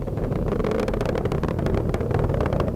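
The 27 engines of a SpaceX Falcon rocket roar during a launch for the Psyche mission, a dense, steady, crackling rumble that stays loud and unbroken, with no voices.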